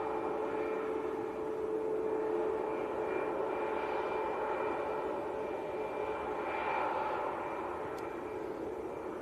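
A TUI airliner bound for Antalya in Turkey rolls out at Manchester Airport, a steady engine rumble with a faint whine, moderately distant and constant, no voices.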